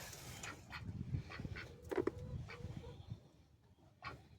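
A duck quacks a few times close by amid rustling and handling noise, with short rough calls scattered across the moment and one louder pair in the middle.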